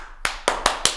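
Four sharp hand claps at a brisk, even pace, dry and close, with a voice imitating the popping of a chopper motorcycle riding away.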